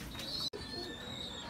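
Pigeons coo softly in a coop where young birds are kept, low repeated calls with faint chirps around them, cut by a brief dropout.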